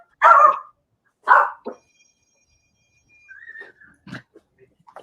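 A dog barks twice in quick, loud bursts close by, followed by a shorter yip, then quieter whimpering and soft scattered sounds in a kitchen where people are cooking.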